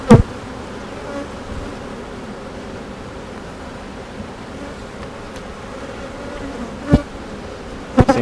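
Honeybees buzz in a dense, steady drone around open hive frames, with occasional sharp knocks and clicks from handling the frames.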